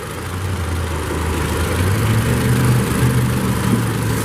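2016 Toyota RAV4 LE AWD with a 2.5-liter four-cylinder engine running: a steady low idle rumble with a faint, slowly shifting hum, heard close with no speech.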